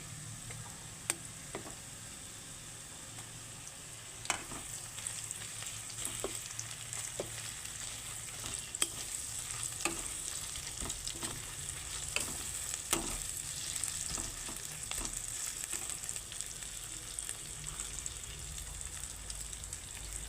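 Ginger-garlic paste fries in a pan with browned potatoes and onion for a broiler chicken curry, a quiet continuous sizzle broken by repeated scraping taps of a spoon as it is stirred.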